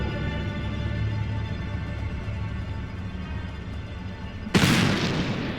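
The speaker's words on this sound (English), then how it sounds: "Sounded like a gunshot." A single sharp bang, either a gunshot or a firework, bursts out in the Black Mirror 3 game near the end, loud and sudden over a steady low ambient hum.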